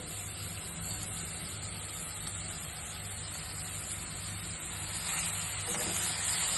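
Soft, steady sizzling and hissing as rice sautés with spices in a hot pan, continuous and fairly quiet, growing slightly louder toward the end.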